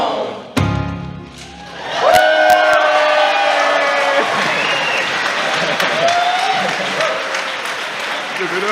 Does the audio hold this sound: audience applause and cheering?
yes